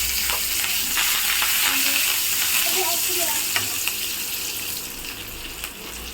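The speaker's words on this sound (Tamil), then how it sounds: "இப்போ இதே எண்ணெயில் நம்ம கொஞ்சம் கருவேப்பிலை போட்டுக்கலாம்." Curry leaves dropped into hot oil left from frying prawns, a loud close crackling sizzle with stirring scrapes, easing slightly toward the end.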